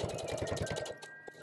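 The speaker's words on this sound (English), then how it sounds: "so now we're gonna take it to the sewing machine and we're gonna sew this closed" A sewing machine stitches a dress being remade into pants, giving a quiet, rapid, even run of mechanical thumps that slows and stops near the end.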